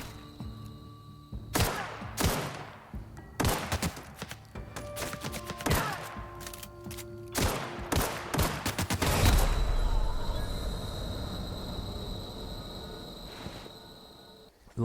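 Rapid bursts of light pistol gunfire in The Outer Worlds, several sharp loud volleys in quick clusters over the first nine seconds, then a denser rumbling mix of impacts and ambient noise fills the rest.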